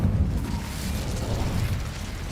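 A fire spell cast in a fantasy wizard game, Incendio, gives a continuous dense roaring whoosh with rumbling low bursts, loud and steady throughout with no talking.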